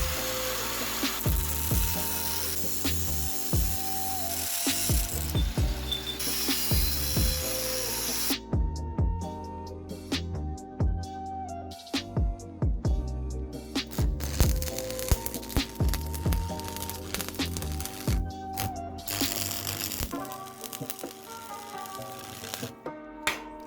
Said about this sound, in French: Et là je vais découper les deux tiges qui vont servir à fixer les roues avant.